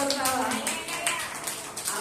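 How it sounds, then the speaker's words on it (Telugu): A church congregation claps their hands during a Sunday sermon, a brief run of overlapping claps in a reverberant room while a voice speaks over them. "చప్పట్లు కొడతావా?"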